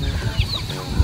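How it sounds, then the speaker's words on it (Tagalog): Many chickens cluck and murmur together in a busy, overlapping flock chatter, fairly close, with no talking. "Ang mga manok po ni Papa ay nagsisilapitan"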